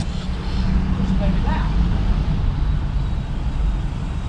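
A 2006 Chevy Avalanche's engine starts and settles into a steady, close, rumbling idle inside the cab, with someone speaking over it.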